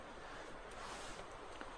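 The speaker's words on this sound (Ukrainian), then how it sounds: "Вітер посилюється, сподіваюсь, буде щось чути." Wind blowing steadily through a tree plantation during a summer mushroom hunt, a continuous breathy rush with rustling leaves and no voices.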